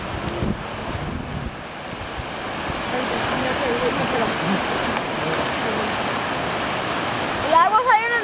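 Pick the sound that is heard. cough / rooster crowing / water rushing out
water rushing out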